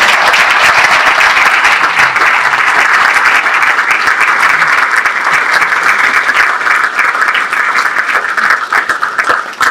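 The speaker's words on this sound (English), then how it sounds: "let us give you a round of applause" Veterans receive a standing ovation as an audience applauds, loud sustained clapping from many hands throughout, dense and even, with no talking over it.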